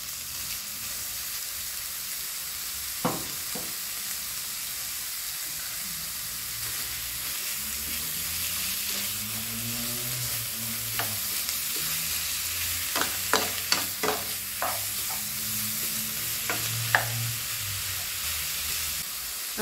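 Ground beef for nachos frying and stirred in a hot pan, a steady sizzle with scraping spoon clicks and clatters growing busier toward the end, no voices.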